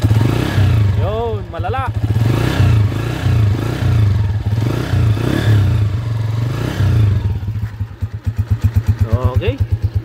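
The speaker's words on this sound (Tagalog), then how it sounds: "So yun lang naman ang maingay dito sa motor ng Kelo." A noisy motorcycle engine being worked on in a repair shop, running with a rough, pulsing rumble throughout and revving toward the end, while someone talks over it.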